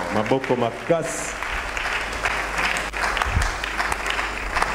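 A church congregation applauds loudly after a sermon, a dense, steady wash of clapping that runs to the end, with a voice speaking briefly at the start.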